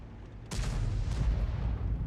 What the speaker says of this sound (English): He's just fired his big gun.